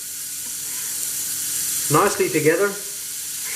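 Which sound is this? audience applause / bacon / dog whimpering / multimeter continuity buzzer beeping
bacon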